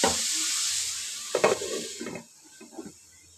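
Bottle gourd peels fry in a pan with a steady hiss of sizzling oil, interrupted by a few scraping, clattering strokes of a spatula stirring them before the sizzle fades quieter.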